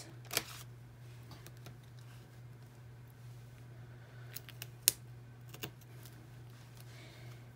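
Scissors cut through paper in a few sparse, sharp snips and soft slicing sounds, close but quiet, over a steady low hum in an otherwise still room.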